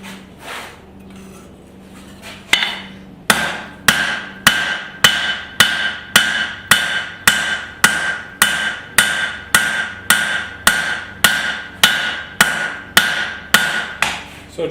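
A forging hammer's cross peen strikes hot steel being shaped into a garden cultivator, about twenty sharp, ringing metallic blows in a steady, even rhythm after a quiet start.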